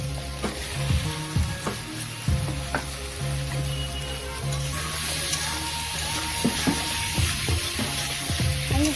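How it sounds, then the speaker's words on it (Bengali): Green peas and boiled potatoes sauté with spices in a pan for a Bengali potato curry, a steady close sizzle broken by repeated spatula scrapes and stirring knocks. "ভালো করে মশলার সাথে কষিয়ে নিই"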